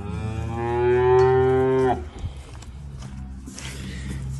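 A third-calving Schwyz dairy cow on a farm in Chuy region, Kyrgyzstan, gives one long, loud, low moo lasting about two seconds. Quieter farmyard rustling follows.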